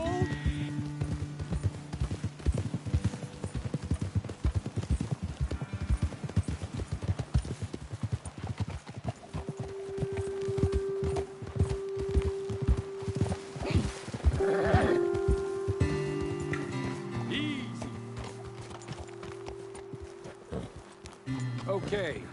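Horse hooves clip-clopping in a video game, a quick steady trot of several horses close by over a low musical score, with occasional snorts and characters talking over it.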